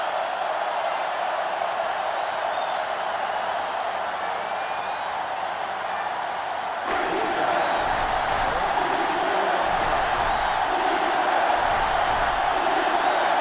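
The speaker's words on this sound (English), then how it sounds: "So this crowd is making their presence felt." A stadium crowd at a Michigan versus Penn State college football video game roars in a broad, sustained wash that swells louder partway through.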